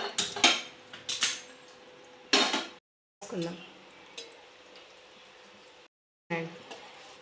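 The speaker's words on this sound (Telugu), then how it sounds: "వేసుకొని ఇప్పుడు కడాయి పెట్టుకుందాం." A kadai (wok) is set on the stove while bitter gourd pulusu is being made: a series of sharp metallic clanks and scrapes, close and fairly loud, broken by two short silences.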